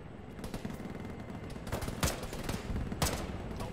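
Gunfire in an ArmA tactical shooter session, with a dense run of shots and sharper, louder reports near the two- and three-second marks standing out over a steady battle rumble.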